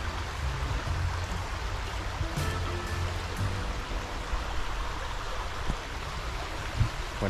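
River water flowing steadily along a riverbank, a continuous close rushing wash with a few small splashes and drips, no voices.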